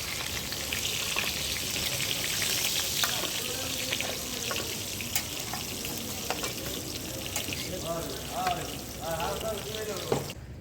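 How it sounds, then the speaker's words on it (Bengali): Eggplant slices frying in a pan of hot oil at a riverside hilsa eatery on the Padma at Mawa ghat, a steady sizzle with scattered pops and clinks running throughout, fairly close, with faint background voices. "দেখুন বেগুনগুলো ভাজা হচ্ছে।"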